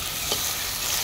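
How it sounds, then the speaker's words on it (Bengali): Beans fry in a pan over a home cooking stove, a soft continuous sizzle with a couple of brief stirring scrapes, heard close and alone without talk. "তো দেখো এখানে বিনস ভাজা চলছে,"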